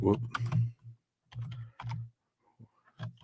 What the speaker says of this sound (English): Wow, I'm really sloppy with my typing today.